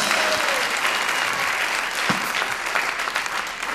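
A live comedy audience applauds, a dense sustained clatter of many hands clapping close and loud for several seconds.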